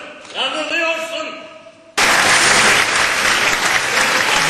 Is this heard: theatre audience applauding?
yes